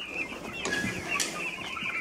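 Laying hens in a backyard poultry yard cluck in short, close calls over a constant hum of farmyard ambience, with a brief flutter of wings and no one speaking.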